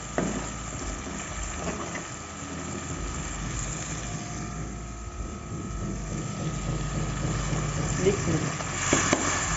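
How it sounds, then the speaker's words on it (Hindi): Fresh fenugreek greens go into fried masala in a home kitchen, giving a steady, fairly loud sizzle and frying hiss throughout with faint stirring noises and no talk. "तो अभी मैं इसमें ऐड करूँगी जी हरी मेथी"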